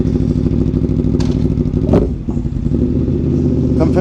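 An Aprilia Tuono V4 motorcycle with an aftermarket valved exhaust runs with a loud, steady engine roar, briefly blipping and dipping before settling, recorded close while riding on Skyline Drive.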